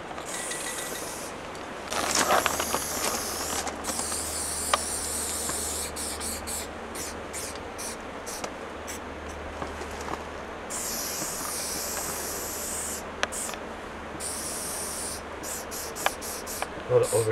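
A spray paint can hisses out graffiti in long and short bursts with pauses between them, near and fairly loud, over a low rumbling background.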